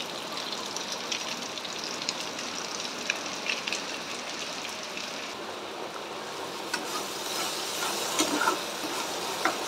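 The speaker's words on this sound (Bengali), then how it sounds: "এই দেখো বাইরে বৃষ্টি হচ্ছে এখন" Steady rain falls outside during a thunderstorm, heard from indoors as a continuous hissing patter that swells slightly louder toward the end, with no one speaking.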